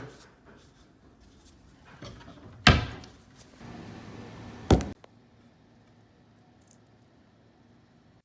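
A plastic dermaroller casing is snapped open, giving two sharp, loud cracks a couple of seconds apart, each with a brief rattling scrape, between quieter handling noises.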